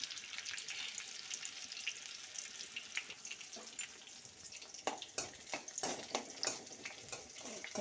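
Curry leaves and crushed garlic fry in hot oil with a steady sizzle, and sharper crackles and pops grow louder and more frequent toward the end; no one speaks.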